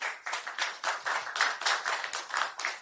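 A crowd at a Democratic Party election rally in South Chungcheong claps in unison, a steady rhythmic beat of about three claps per second, moderately loud and close, with no talking over it.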